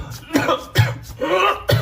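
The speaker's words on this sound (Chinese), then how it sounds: "整这点玩意儿差点没他妈给我咳嗽吐了" Harsh coughing from a person at home after making dough and cooking, in several bursts with short pauses, close and fairly loud.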